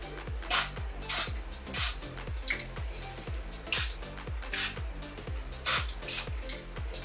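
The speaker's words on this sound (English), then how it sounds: "So I'm just going to spray here where the thread goes through." An aerosol spray can sprays lubricant onto the thread of a milling machine in a quick run of short hissing bursts, roughly a dozen evenly spaced puffs, close to the microphone with a low rhythmic thump under each.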